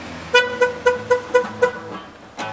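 A car passing by and honking with six quick, evenly spaced horn toots followed by a last one after a short pause, loud and close.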